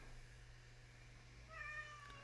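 A house cat gives a single soft meow late in the moment, brief and faint against a steady low background hum, with no one talking.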